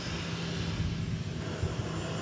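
An American Airlines Boeing 737-800 departs DFW Airport, a continuous low rumbling engine roar at steady loudness throughout the short stretch.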